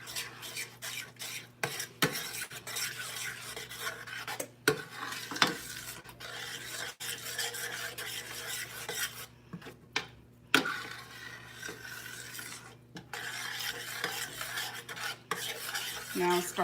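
A spoon stirs and scrapes through thick coconut cream pie filling in a pot, breaking up chunks that have stuck together, in a steady scratchy churn with occasional clicks against the pan, fairly quiet and with no voices.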